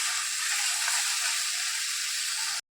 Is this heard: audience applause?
no